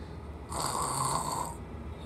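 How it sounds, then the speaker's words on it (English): A sleeping person snoring indoors, a single drawn-out rasping snore lasting about a second, close and fairly quiet against a faint room background. "He's snoring."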